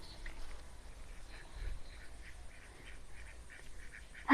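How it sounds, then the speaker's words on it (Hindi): Ducks at a farmhouse in Karjat give soft, faint quacks that repeat irregularly over low outdoor rumble, with no talking. "यहाँ पे मुझे बतख देखने के लिए मिल गए और चलिए क्लोज से देखते हैं उनको"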